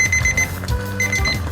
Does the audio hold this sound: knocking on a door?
no